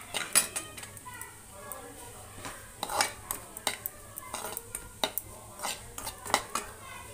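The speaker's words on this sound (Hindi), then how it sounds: "लगातार भून लेते हैं, अच्छी तरह से हम भूनते जाएंगे" A ground mixture is stirred and roasted in a pan for a milk-cake sweet, with repeated clinks and scrapes of a utensil against metal and faint sizzling underneath, heard up close.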